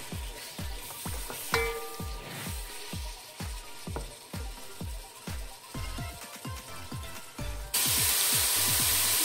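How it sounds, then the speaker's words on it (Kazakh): Meat sears in a pan over high heat with a loud, steady sizzle, punctuated by regular rhythmic thumps of stirring or tossing, then a sudden burst of stronger hissing near the end. "Етімізді салдық, қатты отта жақсылап тұрып қуырып аламыз."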